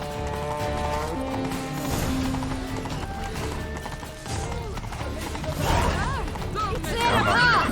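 Horse hooves clip-clopping during a ride in The Witcher 3: Blood and Wine, a steady rhythmic beat under music and speech, with a horse whinny near the end.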